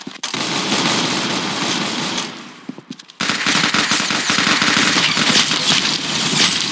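Rapid, loud automatic gunfire from the video game Arsenal rattles in dense bursts, briefly thinning to a few scattered shots near the middle before resuming as a sustained, close barrage.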